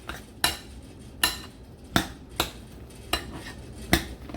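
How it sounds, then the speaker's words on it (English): A utensil stirs a pork chop stuffing mixture in a bowl, clinking sharply against the sides about seven times in a steady rhythm, close up and alone. "I'm going to stir that up"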